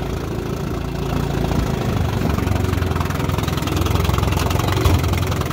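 A 1957 Evinrude Fastwin 18 hp electric-start outboard motor runs steadily on a pond, a loud, close, even droning engine note that builds slightly in intensity, with water wash beneath and no voices.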